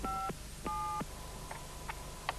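A telephone number being dialed, a short run of distinct touch-tone beeps, some long and some short, sounding alone at moderate volume.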